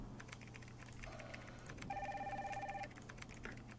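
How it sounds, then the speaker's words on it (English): A telephone rings in a Nancy Drew mystery game: one clear electronic ring over faint keyboard-like ticking and a low hum, no voices. "Oh, phone's ringing."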